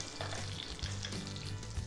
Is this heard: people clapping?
no